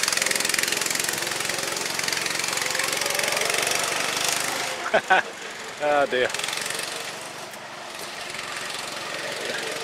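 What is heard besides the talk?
old junk tractor engine running after shifting into fourth gear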